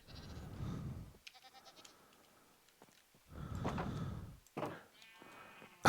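Goats in Minecraft bleating, two wavering bleats separated by quiet gaps, with faint game clicks between them.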